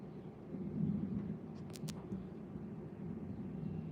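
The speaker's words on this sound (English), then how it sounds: "That was a big lightning strike" A low, deep rumble of thunder from a big lightning strike rolls steadily in the distance during a rainstorm, with a couple of brief sharp clicks partway through.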